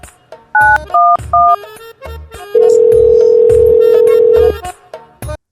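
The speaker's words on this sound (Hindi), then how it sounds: "अच्छा फोन ही लगाई" Telephone keypad tones sound as a number is dialed: three quick paired beeps, then a pause and a few softer clicks, followed by a long steady ringback tone and a few short clicks at the end.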